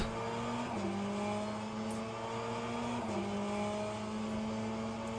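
LMP2 prototype race cars in Le Mans Ultimate drone past with steady high engine notes, pitch shifts as cars overtake and gear changes, a continuous layered engine roar.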